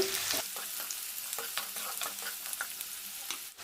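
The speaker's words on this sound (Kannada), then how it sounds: "ಆನಿಯನ್ ಹಾಕಿದಾದ್ಮೇಲೆ ಈ ರೀತಿ ಚೆನ್ನಾಗಿ ಫ್ರೈ ಮಾಡ್ಕೊಳ್ಳಿ." Onions frying in a pan for palak paneer, a dense continuous sizzle with repeated short stirring scrapes and taps from a spoon, close and fairly loud with no voices.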